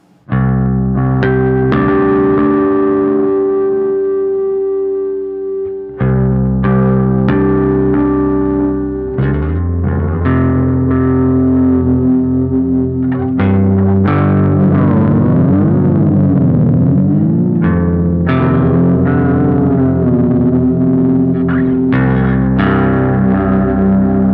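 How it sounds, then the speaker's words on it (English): Bass guitar played through a Bleak District Electric Tapescape pedal with delay and tape wow, sustained notes repeating and warbling in pitch, loud and alone with no talk. "Now I want to go ahead and introduce some wow into the sound."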